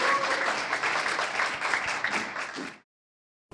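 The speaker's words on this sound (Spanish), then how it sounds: "Un aplauso para ella." An audience gives a sustained round of clapping for a guest speaker at a startup event in Santiago de Chile, dense and even before stopping sharply into silence.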